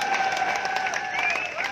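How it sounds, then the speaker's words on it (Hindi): Crowd applause at a political rally speech in Hisar, dense continuous clapping filling the clip with a sustained high tone running over it. "ठोको ताली।"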